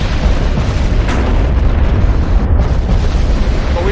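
An armored cruiser blows up and sinks in a naval battle video game, a loud sustained rumbling explosion with dense low boom and crackling debris filling the whole stretch.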